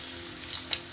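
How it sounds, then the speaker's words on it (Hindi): Food cooking over a wood fire in a village kitchen gives a brief steady sizzle and crackle, close and continuous, with a faint low hum underneath and no talk. "और इधर खाना बन रहा है"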